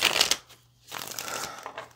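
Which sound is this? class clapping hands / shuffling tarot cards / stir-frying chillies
shuffling tarot cards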